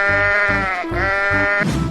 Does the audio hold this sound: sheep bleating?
yes